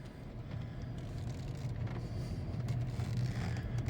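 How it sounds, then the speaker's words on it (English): A Mercedes CLA petrol engine restarts through its stop/start system once the brake is released, settling into a low, steady idle hum that builds gradually and stays fairly quiet and close. "As soon as I take my foot off the brake, the car starts again"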